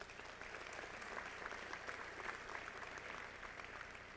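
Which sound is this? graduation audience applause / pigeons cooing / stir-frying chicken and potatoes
graduation audience applause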